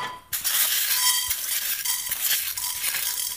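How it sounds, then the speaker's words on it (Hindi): Fenugreek seeds hit a hot kadhai (wok) for a cauliflower, turnip and carrot pickle, and a loud, steady sizzle bursts in after a brief quiet moment, with faint stirring scrapes underneath. "कढ़ाई गर्म हो जाने पर पहले हमने मेथी डाला"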